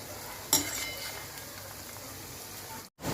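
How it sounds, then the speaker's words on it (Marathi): Cabbage manchurian balls frying in oil over a low flame, a soft steady sizzle with a brief clink of a utensil early on, fairly quiet and uninterrupted by talk. "हे आता आपण छान तळून घेऊया। ह्याला मंद गॅसवरच तळायचे आहेत।"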